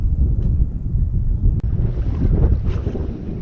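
Wind gusting across an open fishing boat while drifting for catfish, a steady low rumble of microphone buffeting with faint water wash, loud and continuous with no talking.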